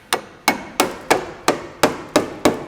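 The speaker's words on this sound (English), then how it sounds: "Whenever you're chiseling panels off," Chisels are struck in seven sharp, evenly spaced hammer blows to cut away a rear floor panel, each hit ringing briefly with no talk.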